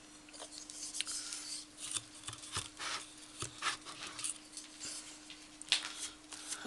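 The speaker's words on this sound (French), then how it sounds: "je vais faire une petite entaille parce que sinon je risque d'avoir beaucoup de plis" Small snips from scissors cutting a notch in the covering of a decorative bottle flower lamp, a series of short, quiet cuts and rustles that come close together.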